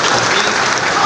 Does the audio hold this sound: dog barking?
no